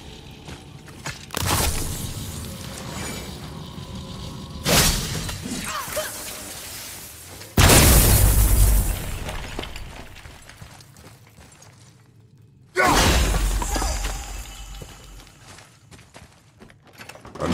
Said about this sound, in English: I will never get tired of shattering things with this.